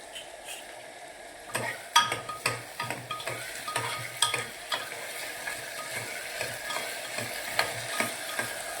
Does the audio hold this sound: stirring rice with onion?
yes